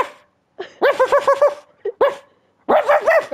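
A new puppy barks repeatedly up close in quick bursts, a rapid run of yappy barks, a couple of lone yips, then another burst, loud and clear.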